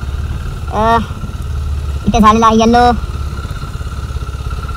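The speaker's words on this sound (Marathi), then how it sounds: "तर बाईक सुरू केलेली आहे आपण" A motorcycle engine idles close by with a steady low chugging throughout, while someone talks briefly over it twice.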